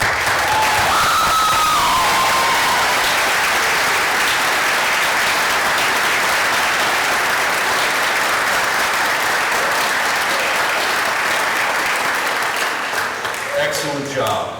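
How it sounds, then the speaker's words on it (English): An audience at a Southwestern College opening convocation in 2019 applauds honor roll students, with dense, sustained clapping and a few cheers lasting several seconds before tapering off at the end. "All of those students who might be in attendance, if you'd please stand, and we will applaud for you."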